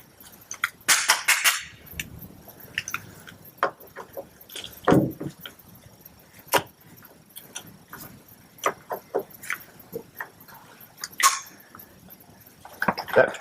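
Rivet gun setting rivets while patching a hole in an aluminium boat: scattered sharp snaps and metallic clicks at irregular intervals, close by, with quiet handling noise between them.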